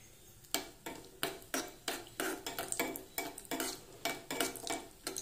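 Cashews and cardamom roasting in a pan, with a rapid run of sharp metallic scrapes and clinks from a spoon stirring against the metal, close and steady, without talk.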